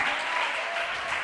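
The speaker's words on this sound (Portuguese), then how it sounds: "Você pode aplaudir o nome dele?" A church congregation claps steadily together, a dense, fairly loud burst of applause with no one speaking over it.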